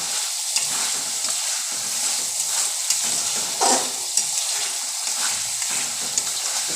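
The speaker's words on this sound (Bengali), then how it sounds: "আমার মশলা সুন্দর ভাজা হয়ে যাচ্ছে। আর একটু আমি ভাজা করব আলুর সাথে।" Ground spices and potatoes fry together in oil for a vegetarian banana-blossom curry, producing a constant close sizzle broken by intermittent stirring scrapes and soft utensil knocks, with no voices.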